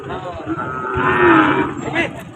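A cow moos once at a cattle and calf market, a loud, close, drawn-out low call lasting about two seconds over faint background noise.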